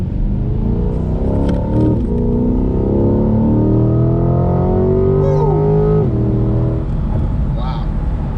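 A 2020 Corvette C8 builds speed with engine tone climbing steadily through the gears, a continuous loud rumble from inside the cabin with a person talking over it.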